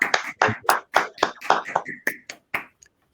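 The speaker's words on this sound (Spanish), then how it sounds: "Con este aplauso le damos la bienvenida a usted al Centro de Pensamiento Libre." A small audience at the Centro de Pensamiento Libre claps to welcome a guest, with sparse, uneven handclaps up close that thin out and stop after about three seconds.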